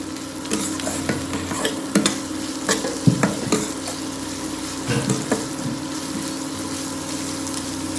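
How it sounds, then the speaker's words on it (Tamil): Capsicum and green chillies are stir-fried in a pan, giving a steady sizzle close by with repeated spatula scrapes and knocks against the metal. "அந்த குடமிளகா அது எல்லாத்தையும் ஒருக்காவே சேர்த்துடலாம் நம்ம முறுக்காவே சேர்த்து நல்லா கிண்டி விடலாம்"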